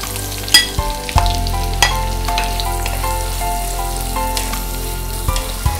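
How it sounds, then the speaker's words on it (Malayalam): Sliced onions with cinnamon, cloves and cardamom being sautéed in oil, with a loud, continuous close sizzle and occasional scrapes and taps from stirring. "അതുവരെ നമ്മളിങ്ങനെ ഈ എണ്ണയിലിട്ട് വഴറ്റുക."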